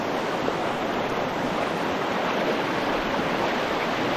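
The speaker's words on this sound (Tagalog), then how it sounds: "Dito sa bukal." Water at a natural spring rushes in a steady, close, even hiss that neither pauses nor varies, with no voices heard.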